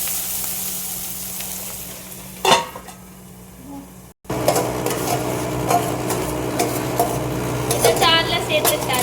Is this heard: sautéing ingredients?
yes